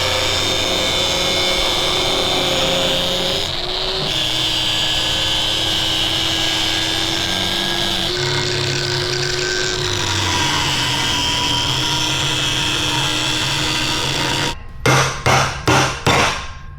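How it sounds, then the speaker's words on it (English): A power cutting tool slices around a weld on a Harley-Davidson Softail frame during a hardtail conversion, heard as a loud, sustained high whine that shifts pitch as it works, then stops with a few sharp bursts at the end. "I'm just gonna cut around this weld."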